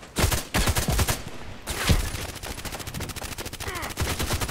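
HK417 rifle fire in a shooter game, rapid close bursts of loud repeated shots with brief pauses between strings.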